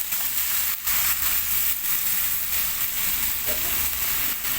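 Alugbati greens hit a hot pan for adobong gulay and sizzle steadily, a loud continuous frying hiss with faint crackles, close by and without talk.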